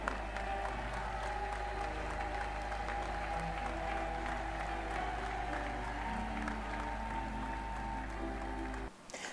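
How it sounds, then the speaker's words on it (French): A church congregation at a worship service claps loudly in sustained applause, a dense wash of hands that carries on steadily and stops abruptly just before the end. "le peuple de Dieu acclame très très fort"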